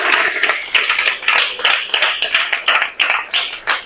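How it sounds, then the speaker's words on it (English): Audience at a storytelling event applauding new young authors, a small group clapping in uneven bursts and rhythmic waves, fairly close and clear with no talk over it. "Let's clap for them one more time."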